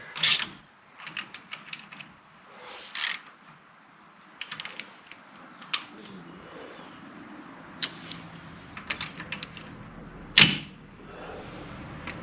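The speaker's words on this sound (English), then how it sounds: "Torque the spindle nuts in a star pattern" A torque wrench tightens the spindle nuts on an '86 Ford Ranger 4x4 diesel in a star pattern, with scattered sharp clicks and ratcheting ticks spaced irregularly over a quiet background.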